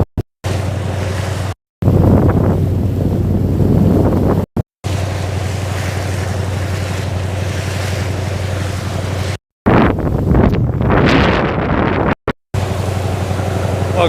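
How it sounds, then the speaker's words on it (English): Strong winter wind on Viðey Island roars and buffets the microphone almost without pause, loud and close, with a few brief drops and gusting surges toward the end. "The wind is too strong."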